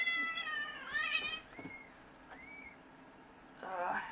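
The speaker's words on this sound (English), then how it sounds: "My cats are trying to get into my room." A cat meows several times, a rising, drawn-out cry followed by a few shorter calls and another meow at the end, fairly close and clear.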